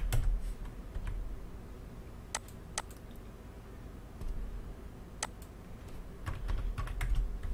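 Typing on a computer keyboard in scattered short bursts of sharp, close key clicks with brief pauses between them.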